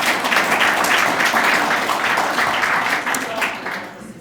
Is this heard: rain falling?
no